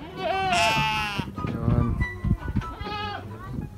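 Several farm goats bleat loudly and close as they are let out of their pen, wavering cries overlapping with a voice talking among them.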